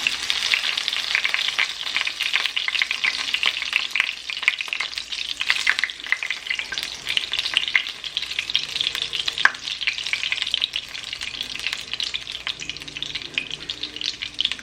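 Formed patties sizzle and crackle steadily in hot oil in a pan on turned-down heat, a dense continuous frying hiss with small pops, close and alone with no talking.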